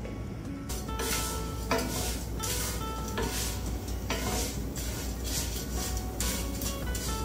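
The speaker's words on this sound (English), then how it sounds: "Going to fry this until it is golden brown." Fideo, thin Mexican noodles, frying in a pan until golden brown: a steady close sizzle broken by repeated scraping stirs and light clinks of a utensil against the pan, with no talking.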